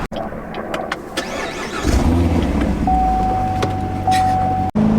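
A Corvette Stingray with a loud exhaust starts and drives up close, first with a few clicks and bumps, then a deep engine rumble that swells and holds strong before cutting off abruptly.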